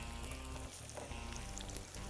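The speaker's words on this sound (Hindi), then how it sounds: "ये इसमें थोड़ा सा फ्राई होगा।" Sliced garlic frying in hot oil for a tadka, a steady close sizzle and crackle that runs unbroken throughout, with no voices over it.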